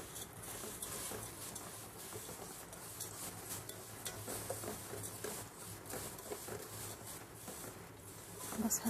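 Vermicelli frying in a large knob of butter with oil in a pan, a faint continuous sizzle and patter with small utensil scrapes.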